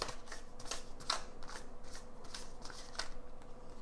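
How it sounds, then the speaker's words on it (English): A deck of Elemental Wisdom Tarot cards is shuffled by hand, soft rhythmic riffling bursts repeating quickly and close, quiet and without talk. "So let's go ahead and just shuffle."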